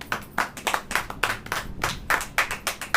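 A church congregation claps hands together in a steady, rhythmic beat, each sharp clap distinct and moderately close, with no talking over it.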